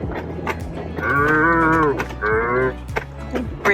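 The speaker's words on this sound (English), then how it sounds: "What a good moo-moo." Cattle moo in two long, loud, close lowing calls, one after the other, with some light background noise between them and no talking.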